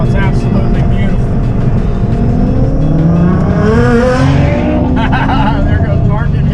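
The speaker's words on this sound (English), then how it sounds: "There goes Mark and his GTR." A Nissan GT-R drives past on a road near a lake, its engine note rising and sweeping by loudly over steady road and cabin noise, with talk in the background.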